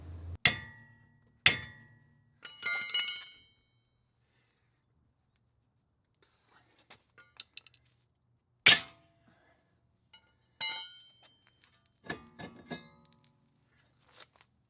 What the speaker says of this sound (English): I just took a big old crowbar, hit it a few times, she'll break loose.